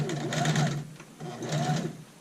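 A sewing machine stitches a dart in skirt fabric, its motor and needle humming in two steady runs with a brief pause between them, close and clear with no talking.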